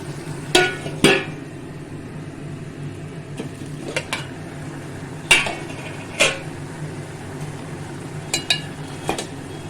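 A pot of water in a kitchen being covered, with several sharp metallic clinks and knocks of pot and lid at irregular intervals over a low steady background hum.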